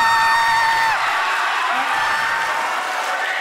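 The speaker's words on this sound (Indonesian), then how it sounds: "Tepuk tangan yang meriah." A talk-show audience of students applauds and cheers as guests are welcomed on stage, a loud continuous crowd roar with clapping and whoops over sustained tonal music.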